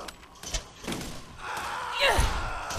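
Melee hits on enemies in the Borderlands video game, a few heavy thuds and slams spread over a couple of seconds among scattered game noises, with a brief whooshing sweep near the end.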